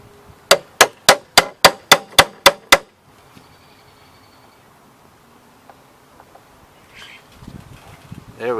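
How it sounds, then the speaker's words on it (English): Nine sharp metallic hammer strikes on a Toro Recycler lawn mower blade in an even, quick rhythm, ringing loudly, followed by quiet rustling and faint background noise. "get out my trusty hammer,"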